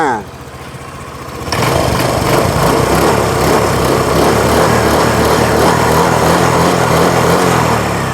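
A Honda Click 125i scooter engine catches after an electric start and settles into a loud, steady high-pitched running drone close by.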